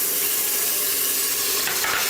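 Minced garlic, one tablespoon, hitting hot bacon grease gives a steady bright sizzle and hiss, close and continuous for a couple of seconds without speech.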